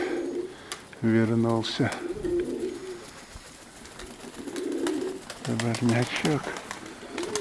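Pigeons coo in two deep throbbing phrases a few seconds apart, close by, while someone talks quietly over steady outdoor background noise.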